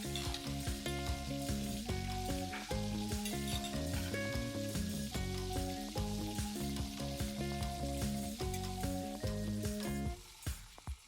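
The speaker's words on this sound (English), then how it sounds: "So we'll let the potatoes fry for about 5 minutes." Potatoes deep-frying in hot oil for cheese fries give a steady sizzle that runs beneath loud background music with chords and melody for most of the stretch, fading near the end.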